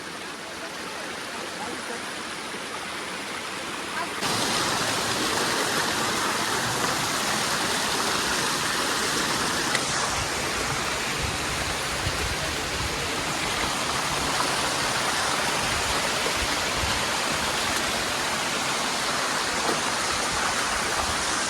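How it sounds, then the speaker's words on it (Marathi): Steady roaring rush of Bhaje waterfall near Lonavla, loud and continuous, swelling slightly after the first few seconds with no other sounds over it. "इथं कशाचाच आवाज येत नाही फक्त पाण्याचा आवाज"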